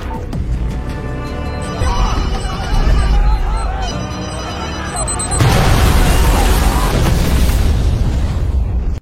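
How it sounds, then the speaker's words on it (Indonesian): A remotely detonated bomb goes off with a loud, sustained roaring blast that surges midway and fills the space with rumbling debris noise, with voices heard beneath it. "ledakan keras terdengar mengguncang seluruh area dan Andu tersenyum puas"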